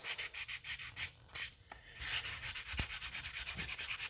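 Light hand sanding on a 1:7600 scale Space Station K7 model, a steady run of short rhythmic rubbing strokes, close and soft, with a brief pause midway before the strokes resume.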